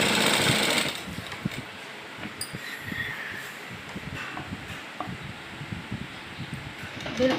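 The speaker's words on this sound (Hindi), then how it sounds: "बिल्कुल बराबर मशीन चलाते चलें" A sewing machine stitches palazzo fabric at home, a brief loud whir at the start followed by quieter uneven mechanical ticking and fabric handling close by.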